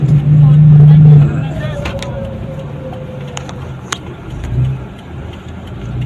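A car engine hums and revs while driving among trailer trucks on the road, a steady mid-pitched drone with a brief louder surge, close by and mixed with talking.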